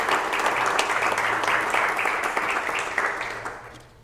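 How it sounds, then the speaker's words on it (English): A conference audience applauds steadily for a speaker's thanks, dense clapping that fills the room and slowly tapers toward the end. "How about another round of applause for"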